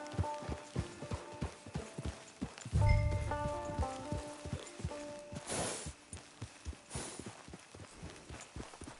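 Horse hooves clip-clop at a steady walking pace in the Western game Red Dead Redemption 2 while arriving at a camp, soft and moderately close, with a brief rumbling burst partway through.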